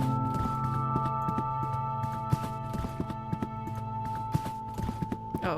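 Footsteps of a character walking in Stardew Valley, a series of soft, regular steps under sustained game music and ambient tones, moderately close.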